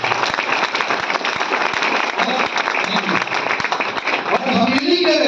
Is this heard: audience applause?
yes